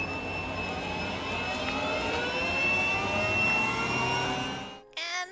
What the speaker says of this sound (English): Put the lid back on and blend one more time for just a couple seconds